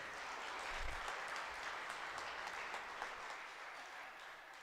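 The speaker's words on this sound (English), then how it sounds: "I think all of us should give a big round of applause to the panel here." A seated audience at a tennis player development workshop applauds its panel, a steady broadband patter of many hands held at an even level for several seconds, soft and somewhat distant throughout.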